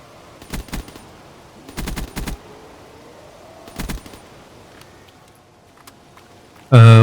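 Bursts of STG rifle fire in a Call of Duty custom zombies map, three short rapid volleys spaced a second or two apart, followed by a loud sudden blast at the end.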